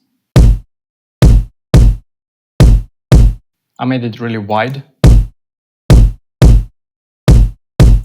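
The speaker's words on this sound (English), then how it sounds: "And there's this kick." Highly compressed, dry acoustic kick drum sample, punchy thuds repeating in an even pattern, loud and close, with a brief spoken voice breaking in midway.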